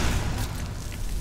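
A loud explosion in a Skyrim-style fantasy game, a dense low rumbling boom that fills the clip with no gaps, with no talk over it.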